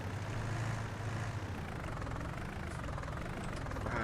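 Small tractor engine in Farming Simulator 19 runs at a steady idle, a continuous low hum with a rough rumble that holds even and unbroken in the foreground throughout, no voices over it.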